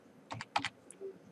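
Typing on a computer keyboard: two quick clusters of close, crisp key taps, then a few isolated faint clicks, with no talk over them.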